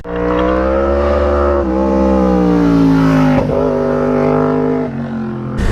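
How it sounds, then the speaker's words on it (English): An RSV4 or Tuono 1100 Factory sportbike engine revs loud and close, its rasping note climbing steadily with brief dips between pulls over several seconds, with no one speaking. "in terms of engine noise, I think everyone can appreciate how good this thing sounds"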